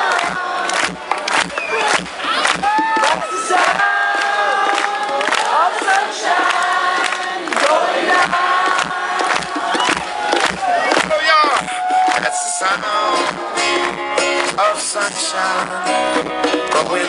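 A loud crowd at a concert sings together over a full band, voices blending in a continuous roar with occasional shouts and cheers throughout.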